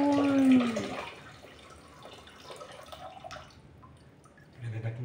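Water from a freshly opened young coconut pours out in a thin trickling, splashing stream, fairly close and modest in volume, with no talk over it.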